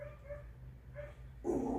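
Several dogs bark outdoors at a distance, a few separate yips and barks spaced over a couple of seconds before a louder, closer burst at the end, with an indoor room hum underneath.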